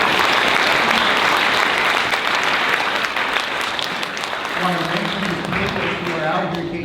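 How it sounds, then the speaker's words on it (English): Sustained audience applause for a panel at a civil liberties day event, loud and even at first, then easing slightly as voices start speaking over the clapping toward the end. "Give them a round of applause, please."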